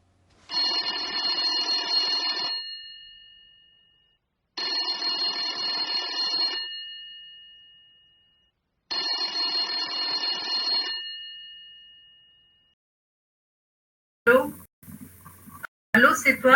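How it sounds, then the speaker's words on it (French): A telephone rings three times in long, even, loud bursts separated by silent pauses, followed at the very end by a brief burst of other noise, set within a dramatic reading of a stage play. "o telefone toca."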